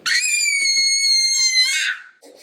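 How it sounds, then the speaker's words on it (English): A one-year-old girl lets out a single loud, high-pitched joyful scream that lasts about two seconds, then trails off into faint background sounds. "whenever she gets excited, she will just scream so loud"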